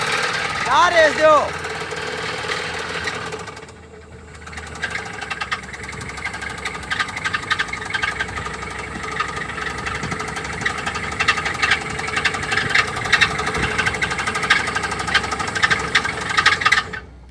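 A car engine left standing two days in floodwater idles with a rough, rattling, knocking drive-belt noise, steady and close, with a brief dip before resuming; someone talks over it at the start.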